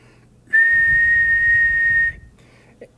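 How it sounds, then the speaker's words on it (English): A single loud, steady whistle blast holds one high pitch for about a second and a half, then cuts off, leaving quiet. "It sounds its whistle"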